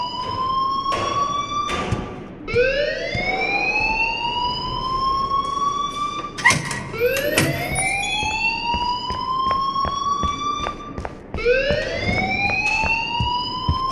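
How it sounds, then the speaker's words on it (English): A siren-like alarm in the video game Life Is Strange wails in repeated rising sweeps, loud and close, each whoop climbing then holding before restarting, with sharper clanks and bursts scattered between cycles. "please turn off that alarm since that's your job."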